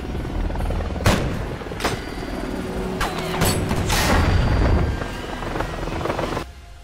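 A helicopter in a film action scene thuds and roars steadily and loudly throughout, with heavy booms and gunfire-like bursts layered over the rotor noise.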